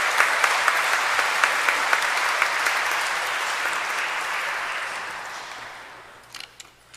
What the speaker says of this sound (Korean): 큰 박수로 신부님을 맞이해주시기 바랍니다.